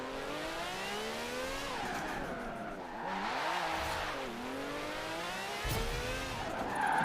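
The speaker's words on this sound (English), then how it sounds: "I'm going to try to e-brake some of these corners and see if we can actually get this thing to slide" An Aston Martin Vulcan in Forza Horizon 4 revs hard through corners, its engine note rising and falling in sweeping harmonics with tire noise under e-braking, loud and continuous.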